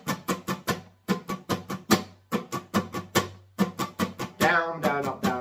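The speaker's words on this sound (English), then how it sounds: "we're going to start off with the strum pattern, which is down, down, up, down, up, down" Acoustic guitar strummed in a quick down-up pattern for a Christmas song, with sharp, evenly spaced strokes in a steady rhythm. The strokes are close and bright, and they build to a longer ringing strum near the end.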